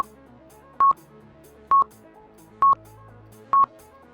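Four evenly spaced touch-tone telephone beeps, each short and loud, ring out about a second apart over a faint background of soft music.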